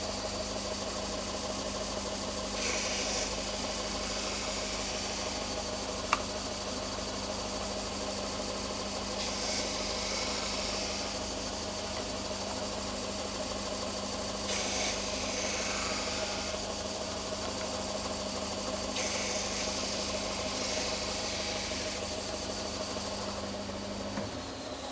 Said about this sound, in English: It's attached to my dust extractor, and I had to turn the dust extractor on.